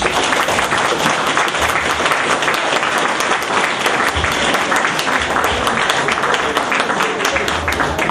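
An audience applauds a speaker at a formal event, with dense, sustained clapping that stays loud and even throughout.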